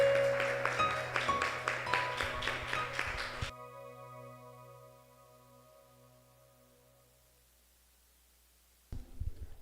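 A church congregation at a family service claps together in a quick, steady rhythm for a few seconds, then the applause cuts off and a sustained keyboard chord rings and fades before another burst of sound.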